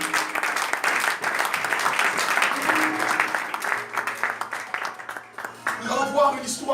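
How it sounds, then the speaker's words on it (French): Church congregation at a sermon applauding and cheering to acclaim the Lord, sustained dense clapping with raised voices, a speaking voice coming through as the applause tapers off. "Est-ce que tu peux acclamer le Seigneur?"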